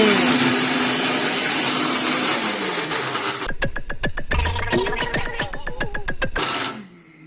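Machine grinding bitter gourd for juice, a loud steady whirring grind that cuts to a rattling, stuttering mechanical clatter before stopping near the end.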